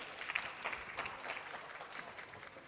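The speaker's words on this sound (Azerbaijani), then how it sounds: "onları alqışlarınızla yola salmaq istəyirəm" An audience at a special game show among teachers claps, a steady spread of applause with scattered sharp hand claps throughout, fairly faint and even, with no talking over it.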